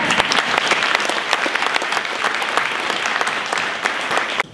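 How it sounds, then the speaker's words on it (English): An audience at a Manassas, Virginia event on the state economy with the governor breaks into dense, sustained applause, many hands clapping loudly and steadily throughout before it cuts off abruptly at the end. "But Betty, I'm going to give you a round of applause."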